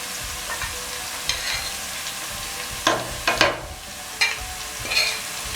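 Thyme and garlic frying in a pot of curry base for fish stew, a steady close sizzle broken by several sharp stirring scrapes and clanks of a spoon against the pot.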